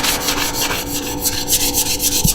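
Wood sanded by hand with a small sanding block: quick, rhythmic back-and-forth rasping strokes, close and loud, with no voices.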